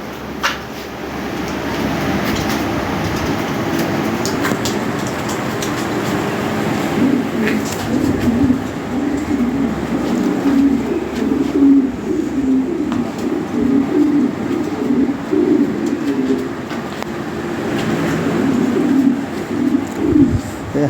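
Cooing from a pair of Lahore Siraji pigeons, male and female, a steady low throaty warble that carries on continuously in the foreground over faint background hum.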